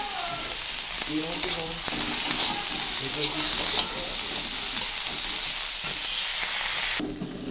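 Chickpeas frying in a pan, a loud, continuous sizzle with scraping and stirring knocks, close up, cutting off abruptly near the end.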